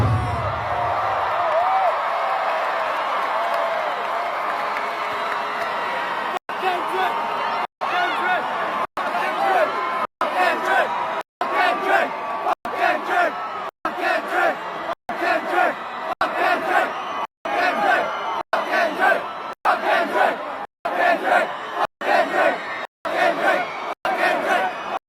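Concert crowd at a show roaring and chanting together, a dense continuous wall of voices with rhythmic shouted bursts, broken repeatedly by brief sharp dropouts.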